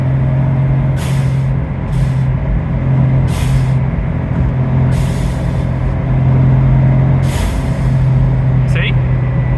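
A turbocharged kei sports car, an Autozam AZ-1 / Suzuki Cara, vents intake pressure through its bypass valve, giving several sharp hissing bursts spaced a second or two apart over a steady, loud engine drone.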